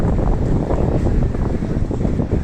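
Strong wind buffets a microphone on a city street in Minsk, a loud, continuous low rumble and gusty roar with no talk.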